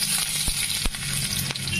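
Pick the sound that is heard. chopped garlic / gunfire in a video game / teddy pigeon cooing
chopped garlic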